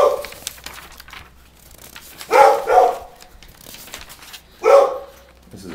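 A dog outside a townhouse barks in three loud, close bursts spread over a few seconds, the first a quick double, with quiet background between them.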